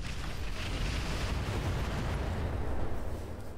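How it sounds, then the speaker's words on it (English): A volley of missiles firing in the Roguetech video game, a loud sustained rumbling roar of overlapping launches and booms that swells slightly before easing off. "we're gonna fire all the missiles"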